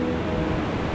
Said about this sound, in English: which, as you can hear, is a waterfall. This is man-made